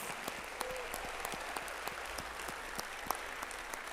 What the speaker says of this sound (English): How about another round of applause for that class?